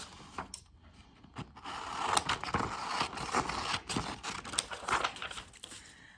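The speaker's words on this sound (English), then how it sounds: "We're going to take our scissors and cut the bottom of this off." Scissors snip and crunch through paper in a run of quick, close cuts, with rustling between the crisp clipping strokes.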